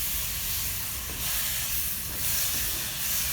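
Tomatoes hit sizzling masala spiced with chili powder in a pan while cooking goat intestine curry in a village, making a loud, steady, close hiss that swells slightly a few times.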